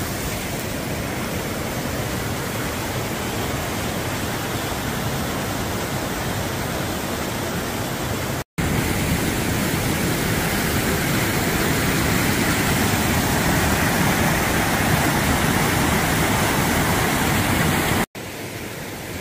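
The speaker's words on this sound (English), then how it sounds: "Nice little waterfall here." A small waterfall along the West Highland Way gives a steady, loud, close rushing roar that runs unbroken for the whole stretch, with no voices.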